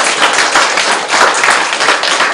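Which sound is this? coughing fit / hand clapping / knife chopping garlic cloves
hand clapping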